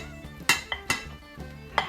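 Metal clinks and knocks against a pan as sticks of butter are added to caramel icing, a few sharp bright hits spaced irregularly over a low, quiet background hum.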